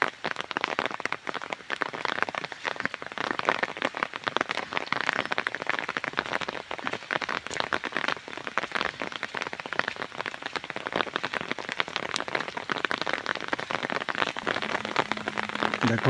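Heavy rain pours steadily over a rural village and forest area during a low-pressure storm, making a dense, unbroken hiss of drops that stays loud and even throughout with no voices.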